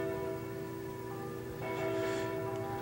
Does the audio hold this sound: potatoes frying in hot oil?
no